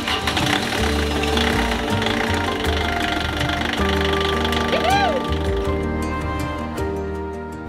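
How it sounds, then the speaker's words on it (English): A boat's diesel engine cranks and catches, then settles into a steady, loud, knocking idle, with a brief rising whine partway through before the rumble begins to fade. "the engine started, and we let it idle for a few minutes"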